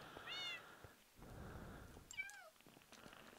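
Cats meow in Minecraft, with two distinct rising-and-falling meows separated by soft shuffling, fairly quiet and with no talk over them.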